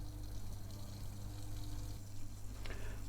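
An aquarium canister filter fills with water as it primes, making a steady close gurgle and trickle of flowing water with a low pump hum underneath. There is no talking.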